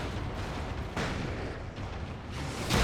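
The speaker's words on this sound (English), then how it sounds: "My flashbang fell!" A flashbang detonating in the video game Alan Wake gives a dense, roaring broadband blast that stays loud and steady across the clip, with sharper bursts near the start and end.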